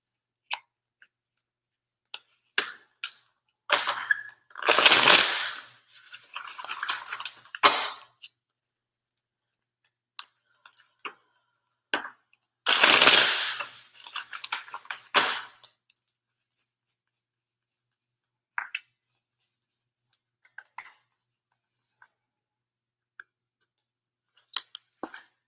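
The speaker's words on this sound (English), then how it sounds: "I'm having trouble with shuffling cards" Tarot cards are shuffled by hands with long fingernails. Two bursts of riffling rustle stand out, scattered light taps and clicks fill the gaps, and quiet pauses separate them, with no talking.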